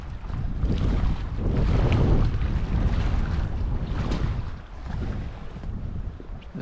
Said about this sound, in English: This has definitely been a windy trip, that's for sure.